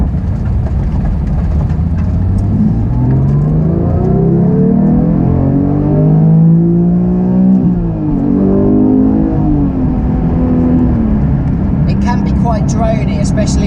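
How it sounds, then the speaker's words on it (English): A Porsche 911 GT3 Touring with a manual gearbox and a gruff, Mezger-like engine drones steadily while driving, its tone rising and falling smoothly through the run. "the engine in this car is obviously a little bit more gruff, a little bit Metzger-like in tone"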